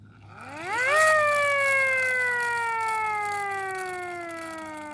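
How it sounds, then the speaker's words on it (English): A Federal Q emergency vehicle siren, a mechanical wail that spins up quickly to a loud peak within the first second and then slowly winds down in pitch. Strong and steady throughout, with no voices. "I think I just heard a Federal Q siren"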